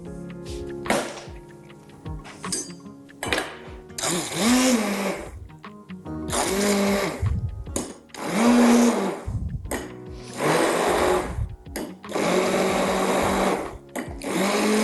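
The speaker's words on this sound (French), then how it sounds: "on prend notre bras mixeur" An immersion blender purees courgette soup in repeated loud whirring bursts of a few seconds each, separated by brief pauses, with the motor pitch shifting as it works through the pot.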